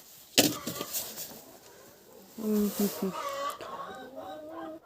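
Domestic chickens clucking in a backyard poultry area, a few short calls near the start and a louder cluster of clucks in the middle, with a person moving about close by.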